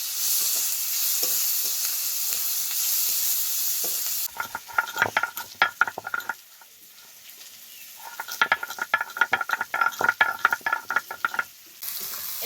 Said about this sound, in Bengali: এবার পেঁয়াজটাকেও খুব ভালোভাবে ভেজে নিতে হবে।